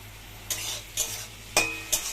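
Onions with tomato and salt being stirred in a pan, a soft steady sizzle broken by four spatula scrapes about half a second apart.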